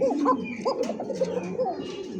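A pigeon coos repeatedly at close range, its soft, warbling calls coming in quick successive rolls against a quiet background.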